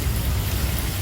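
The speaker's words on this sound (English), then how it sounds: "This is the best rain we've had here in 2 months" Steady rain pours down in a dense, even hiss of drops hitting surfaces, loud and close, with no voices over it.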